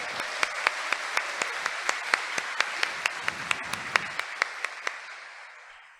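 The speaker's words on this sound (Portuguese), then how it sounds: "Pode dar uma salva de palmas para essa esperança" A small church congregation at a Sunday Mass claps in slow unison, about twenty crisp, evenly spaced claps over a soft wash of scattered hands that fades away at the end.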